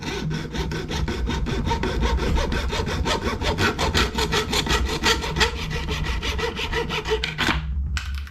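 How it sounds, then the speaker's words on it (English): A hard plastic line is sawn through for a budget dual catch can on an LY6-swapped Silverado truck: rapid, steady back-and-forth sawing strokes, close and loud, running continuously before stopping abruptly near the end. "We're gonna cut another piece off of this hard plastic line"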